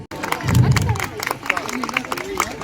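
Crowd at a school annual athletics meet cheers and claps around a race start, a busy mix of scattered clapping, shouts and babble with voices calling out close by.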